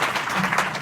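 Brief applause from school students at an adolescent education program in a girls' higher secondary school, a dense, steady patter of clapping lasting under a second.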